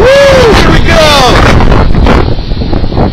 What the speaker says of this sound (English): 65-mile-an-hour wind gust.